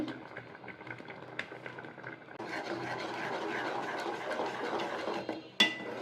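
A spoon stirs powdered milk into payesh in a pot, scraping and clinking softly with a busier, louder stretch of stirring in the second half and one sharp knock near the end.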